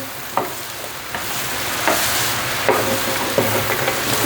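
Soya meat frying in a pan, a continuous crackling sizzle broken by repeated scraping strokes of a utensil stirring at an uneven rhythm, close and fairly loud.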